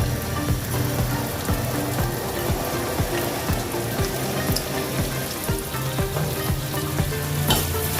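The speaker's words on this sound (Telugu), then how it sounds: "సాజీరా, ఐదు లవంగాలు, కాబూలి శనగలు, పచ్చిమిరపకాయలు బట్టర్లో కొంచెంసేపు అట్లా మగ్గనియాలి." Shahi jeera, five cloves, chickpeas and green chillies fry in butter, producing a dense, close sizzle with rapid popping crackles and occasional stirring clicks, no talking.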